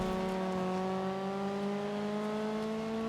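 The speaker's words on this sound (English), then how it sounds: "It's always a bit hard covering racing games because you don't want the engine sound to drown you out." A car engine in the off-road racing game Dirt 5 on PS4 Pro drones loudly and steadily, its pitch climbing slowly as it revs, with no voices over it.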